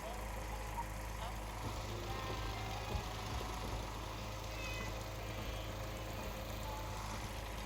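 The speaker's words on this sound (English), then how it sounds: "There's a cat in here as well." A cat in the Fallout 4 video game meows faintly at a Boston Airport settlement, set against a constant engine-like hum, with a voice talking at times.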